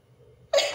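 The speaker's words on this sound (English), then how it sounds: "Oh, I got to sneeze." A single sharp, close human sneeze bursts out suddenly after a moment of soft breathing.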